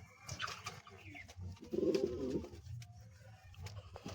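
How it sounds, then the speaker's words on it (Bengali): Sirajee fancy pigeons coo in a low, throaty burst midway, with softer rustling and scattered bird sounds around it at a modest level. "আমার যে সিরাজ সব ব্রিডিংয়ের জন্য ছটফট করছে"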